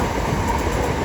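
A Class 375 electric train passes New Cross station on the South Eastern main line, a brief, close rumbling rush of wheels and motors with no voices.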